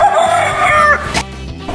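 A chicken gives one loud, strained call lasting about a second, with no other sound around it, then quieter background noise follows.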